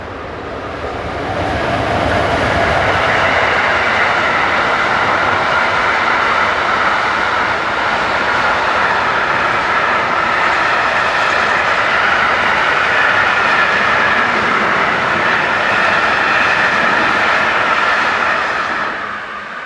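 BLS Class 425 locomotives hauling trains past on a Swiss line, a loud sustained rumble and roar of wheels and motors that swells in and holds steady for the whole stretch, with no talking.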